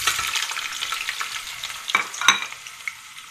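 Sliced potatoes frying in hot oil in a pot for a Spanish tortilla, a bright continuous sizzle with a few sharper pops and clinks near the end, no one talking.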